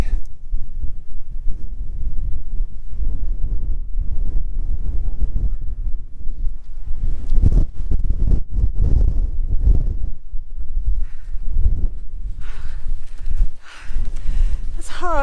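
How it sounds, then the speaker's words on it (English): Strong wind on a mountain summit in Wales, low buffeting roar against the microphone in continuous gusts, loud and close, with people talking at points. "The wind coming out Cribbin is intense."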